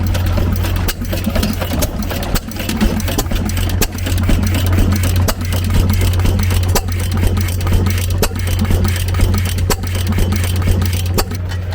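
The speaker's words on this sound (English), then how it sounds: "Love to hear how they do that little hit and miss sound." An antique hit-and-miss farm engine running at an outdoor antique tractor show, with a loud, steady low thumping drone and a sharp mechanical clatter throughout.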